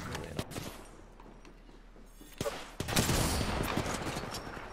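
Gunfire in Apex Legends, with sharp isolated shots early followed by a dense, loud burst of rapid fire that continues to the end, with faint game effects underneath.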